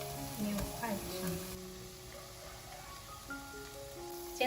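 Hakka-style glutinous rice cakes fry in a little oil in a flat pan over medium heat, making a soft, continuous sizzle with a few brief scraping and clinking sounds of the pieces being turned.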